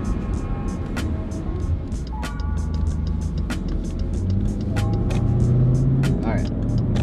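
Jeep Grand Cherokee with a bad thermostat driving on a snowy highway at varying speeds, a steady interior road and engine rumble that rises in pitch as it accelerates, with sharp clicks and taps over it.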